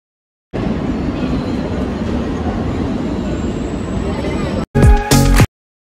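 A Mumbai suburban local train on the Panvel line runs with a loud, steady rattling rumble for about four seconds, then cuts off into a few short, harsher bursts of noise.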